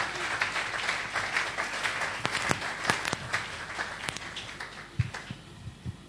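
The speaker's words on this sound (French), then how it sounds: "Est-ce que quelqu'un peut acclamer pour lui?" A church congregation applauds, with scattered, loose clapping and a murmur of cheers that thin out toward the end, fairly distant in a reverberant room.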